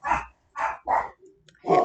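A dog barks in four loud, close, separate bursts with short pauses between them, heard indoors with no talking.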